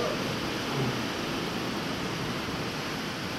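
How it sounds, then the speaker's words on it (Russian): Small hail pours down in great quantity, heard from inside a stairwell as a steady, even hiss-like roar that stays constant throughout without breaks. "У нас такой град мелкий, но его так много. И такой шум создает."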